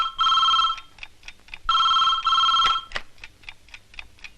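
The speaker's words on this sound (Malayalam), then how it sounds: "ഇതേതാ ഇപ്പൊ ഒരു ഫോൺ?" Old landline telephone bell ringing in two long shrill bursts, loud and close, followed by shorter fading rattles with no talk.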